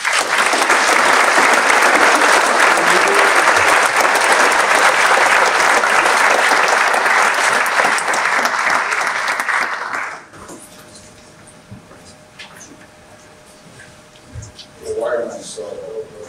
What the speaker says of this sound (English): Please join me in a hearty round of applause to welcome Mr. Roche.